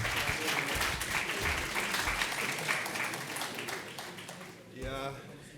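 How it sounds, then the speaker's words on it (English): A conference audience at an oil and gas event applauds a presentation, with dense steady clapping that fills the room and then thins out, while a voice speaks briefly over it near the end. "Round of applause, please."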